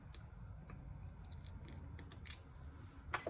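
Scissors snip a thread tail at a single-needle embroidery machine, giving a few faint, crisp clicks spread across a few quiet seconds.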